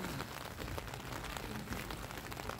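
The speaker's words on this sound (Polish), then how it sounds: "Woda deszczowa." Steady, dense patter of rainwater droplets falling on a surface, constant and fairly quiet with no voices.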